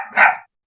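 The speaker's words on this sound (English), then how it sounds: "those are actually barks." A single short, sharp puppy bark, loud and close, over in a fraction of a second and followed by silence.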